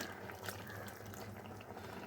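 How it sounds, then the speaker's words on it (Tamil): Water splashes and pours briefly in a steady stream from a mixer jar being rinsed, close by, with no voices. "லைட்டாக தண்ணி விட்டு அலம்பி ஊற்றிடுறேன்"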